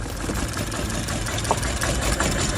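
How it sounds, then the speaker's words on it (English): A car engine idling rough and vibrating violently, with a fault blamed on the oxygen sensor, gives a steady low rumble with uneven knocking pulses, close and loud, with no talking. "The engine vibrates seriously."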